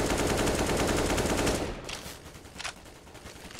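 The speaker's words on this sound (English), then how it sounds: "Sprays on the AK." Rapid automatic AK rifle spray in a Counter-Strike esports match: a loud, dense burst of gunfire for about a second and a half, then quieter scattered shots and faint game sounds.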